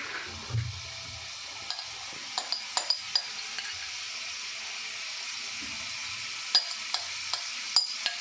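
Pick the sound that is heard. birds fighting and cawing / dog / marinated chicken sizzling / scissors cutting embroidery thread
marinated chicken sizzling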